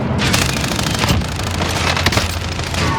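An explosion in Call of Duty Warzone, a loud close boom mixed with rattling bursts of gunfire and rumble, sustained across the short clip with no talk.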